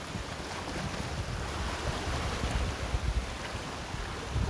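Sea waves wash steadily at Liloan beach resort, a constant broad rush of surf mixed with wind buffeting the microphone.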